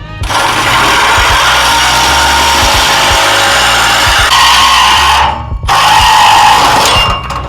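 A power saw blade cutting through an Audi SQ5 exhaust pipe soaked in WD-40, a loud continuous harsh grinding whine that holds steady for several seconds, briefly cuts out and then resumes.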